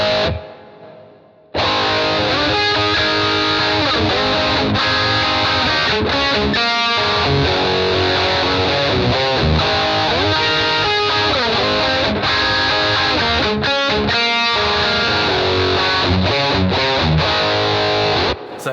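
Electric guitar played through a Boss GT-1000 with ducking reverb: loud, distorted chords and riffs ring continuously, with short gaps where the reverb tail swells back up as the playing thins, after a brief quieter opening.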